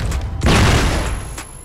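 Flashbang grenade bursting in a video game: a sudden loud whooshing blast that rings on for about a second, with a faint high whine lingering above it.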